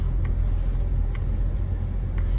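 A car rolling along a road, a steady low rumble of engine and tire noise from inside the vehicle, continuous and moderately loud with faint ticking on top.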